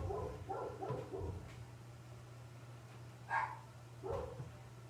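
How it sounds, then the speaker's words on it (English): Several dogs barking indoors, a cluster of sharp barks at the start followed by scattered single barks and yips over a low steady hum. "my dogs are still going crazy."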